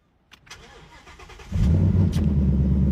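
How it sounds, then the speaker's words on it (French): A supercharged Ford Mustang V8 cranks over and fires up, then settles into a deep, loud, steady rumble close by. "S'il y a toujours des sceptiques, je vais démarrer la voiture."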